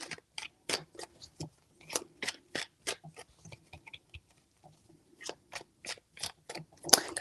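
Tarot cards are shuffled in a quiet room, making light, irregular ticking and flicking taps in short bursts with a brief pause in the middle. The sound is close and soft, with no talking.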